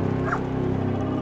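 A farm dog sounds off loudly and nearby with yips, whimpering whines and short barks, a steady vocal stream with no talking.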